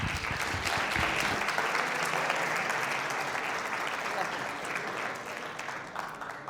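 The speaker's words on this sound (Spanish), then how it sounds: "recibimos con un fuerte aplauso a Isabel" An audience at a Spanish-language technology career talk claps loudly and steadily. The applause is dense and sustained, then thins slightly toward the end.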